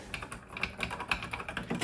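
Fingers type rapidly on a retro computer keyboard, a close, busy stream of clacky keystrokes with uneven rhythm and a few louder strikes, no voices over it.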